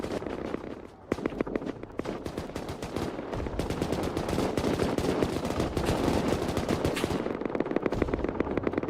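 Dense, continuous cannon and battle fire from a large Albion Online fight, a loud, rapid crackle of overlapping blasts sustained throughout with no talk.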